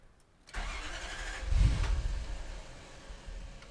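An Opel Kadett race car engine cranks briefly and then catches, firing up loudly close by before settling into a rough, uneven idle.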